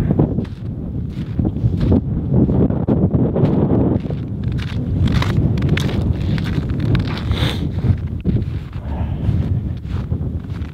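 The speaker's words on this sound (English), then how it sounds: "is super windy out and cold" Steady, heavy wind buffeting the microphone on a cold, high spot outdoors, a constant low roar with gusty rumbling throughout and no voices.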